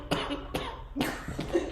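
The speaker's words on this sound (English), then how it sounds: "I thought you were just clearing your throat" A person clears their throat three times in short, rough bursts, close by, with no words spoken.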